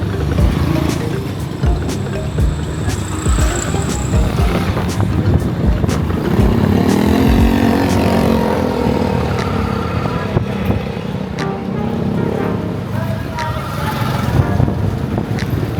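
A motorcycle rides along a town street in Toledo City, Cebu, its engine note rising and falling as it passes nearby amid other traffic and street noise.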